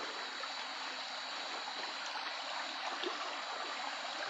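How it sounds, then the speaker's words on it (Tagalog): Water pours and splashes steadily outdoors as an elderly woman bathes, a constant rushing wash with no clear breaks, moderately faint. "Ayan, naliligo na siya."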